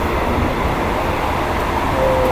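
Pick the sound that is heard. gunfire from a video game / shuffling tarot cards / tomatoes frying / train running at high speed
train running at high speed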